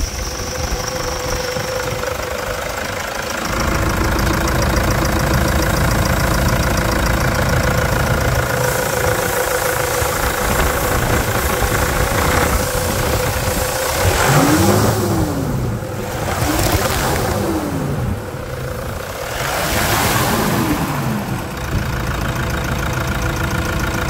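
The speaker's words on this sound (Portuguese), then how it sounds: "vamos escutar essa melodia de um motor bloco K de Hilux com 300 mil quilômetros" A Toyota Hilux 3.0 K-block engine with 300,000 km runs loud and close, idling steadily before several sharp revs rise and fall in quick succession, then settling back to idle.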